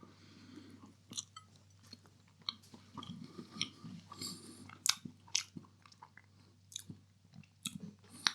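Someone chews a Mr Kipling Bramley apple pie up close, with soft, moist, irregular bites and mouth sounds repeating steadily throughout, faint and intimate.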